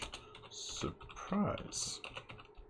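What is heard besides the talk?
typing on a computer keyboard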